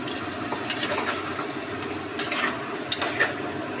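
A spice paste goes into potatoes frying in a pan and gets stirred, giving a soft sizzle under scattered scrapes and clinks from the utensil.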